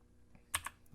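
Two quick computer keyboard key presses sound close and crisp in a nearly silent room, with a slight pause between the clicks while working in Blender.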